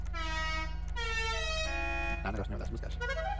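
Horn options on a tuned Karin Vulcan car in GTA 5 sound out as sustained, tonal melodic honks that change pitch, playing loud and steady over a constant low engine or game hum.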